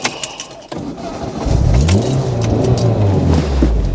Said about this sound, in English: So there you get a bit of appreciation of the induction noise.